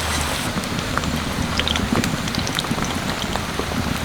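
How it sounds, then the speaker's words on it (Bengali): Green plantain slices deep-frying in oil at medium heat, a loud, dense, continuous crackling bubble much like heavy rain. "আমি সবগুলো ভালো করে ভেজে নেব"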